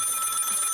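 Telephone ringing in the video game Lil Guardsman, a steady bright electronic trill held without a break, loud and close, with no voices over it.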